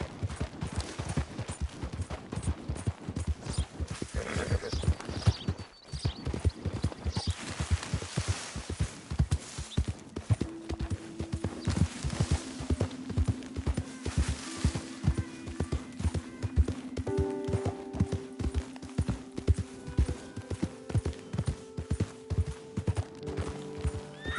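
Horse hooves clip-clop in Red Dead Redemption 2 on PS4 Pro, a steady, even rhythm of hoofbeats throughout, moderately loud and close, with a few faint tonal game sounds entering partway through.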